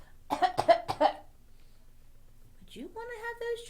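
A person gives a burst of three or four close, sharp coughs in quick succession, followed after a pause by a sung or drawn-out vocal tone.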